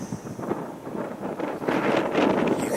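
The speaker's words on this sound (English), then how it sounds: "You can probably hear the wind." Cold, gusty wind rushes and buffets the microphone on an open stretch of wooded trail near a creek, a steady roar that swells louder toward the end.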